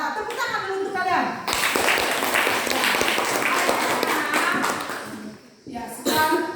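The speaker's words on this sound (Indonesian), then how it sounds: "Tepuk tangan dulu untuk kalian." A classroom of children claps together in a burst of applause that swells, holds steady for several seconds, then fades, with voices audible before and after.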